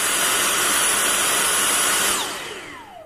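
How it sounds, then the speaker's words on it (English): Dyson V6 Animal cordless vacuum cleaner running at a loud, steady high-pitched whine, then switched off so the motor pitch glides downward as it spins down; close and alone, no talking. "Now, you simply press the trigger to vacuum."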